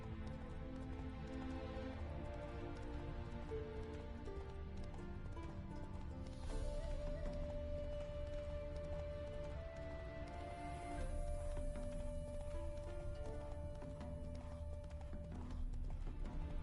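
Roach, the horse in The Witcher video game, clops along at a walk with soft, quiet hoof falls under sustained game music and ambient tones.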